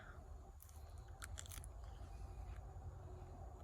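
Crisp crunching bites from close chewing of crunchy lettuce, a few sharp crackles standing out over a steady low rumble of background noise.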